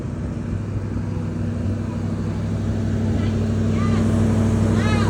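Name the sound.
1966 Mustang engine revving high while warming up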